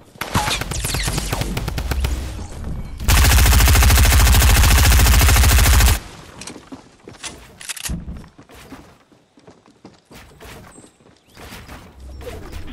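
Fortnite gunfire crackles in rapid bursts, then a loud, continuous roar of sustained fire holds for about three seconds. Scattered shots and clatter follow, and a player talks intermittently.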